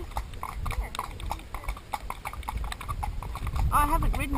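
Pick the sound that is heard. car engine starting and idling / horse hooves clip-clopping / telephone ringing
horse hooves clip-clopping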